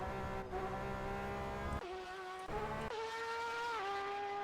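Race car engines in the rFactor 2 sim on the Le Mans circuit with LMP1-H, DPi, GT1 and GTE cars: a loud, sustained high-revving whine that shifts pitch with gear changes and throttle lifts, with no voices over it.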